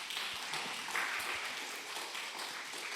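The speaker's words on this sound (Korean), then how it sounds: "박수 한번 쳐줍시다." A church congregation claps during an afternoon worship service, a faint, distant patter of applause held steady for a few seconds.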